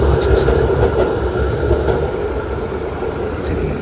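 A Melbourne tram rolls past on Collins Street, a continuous rumbling, grinding drone of wheels on rails with city background, close and fairly loud throughout.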